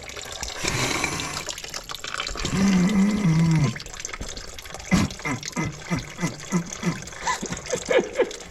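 Coolant poured into the reservoir of a Toyota Corolla Hybrid during a 100,000-mile service, giving gurgling, glugging liquid sounds close by, with a brief hum and people talking intermittently.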